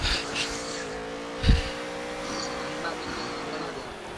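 Race car engine roaring around a dirt oval at Eldora in a racing video game, a steady droning hum with a brief loud thump midway, no talk over it.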